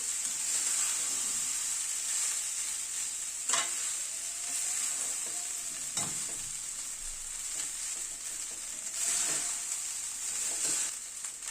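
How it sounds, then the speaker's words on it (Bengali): Cooked rice stir-fried in a pan for orange fried rice, giving a steady close sizzle and frying hiss throughout, with a few sharp scrapes and stirs of the spatula against the pan. "ভাতটাকে একটুখানি ভেজে নেব।"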